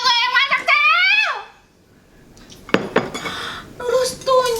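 Plates and bowls clink and clatter as they are gathered up, loud and close, with voices talking before and between the dish sounds.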